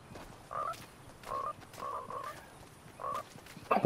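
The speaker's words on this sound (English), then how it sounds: "Hi, frog." A frog in the video game Fortnite croaks in four evenly spaced, moderately loud bursts with short gaps between them.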